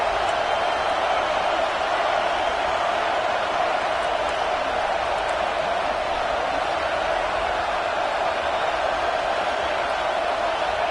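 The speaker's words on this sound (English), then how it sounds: "how nice is it to have the home crowd going absolutely bananas?" A home crowd at a football game roars loudly and steadily, a dense unbroken wall of cheering with no pauses.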